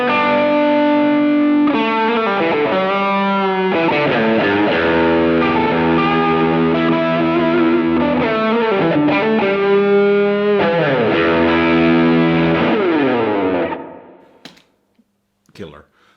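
Electric guitar through a Duellist overdrive pedal plays a continuous driven riff of chords and melodic lines, thick and saturated, loud and steady before fading out near the end.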